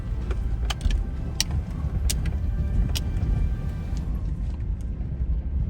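A Toyota Prado drives over hard but slightly slippery Zambezi floodplain ground, its engine a steady low rumble heard from inside, with occasional light clicks and rattles from the cabin; no talk.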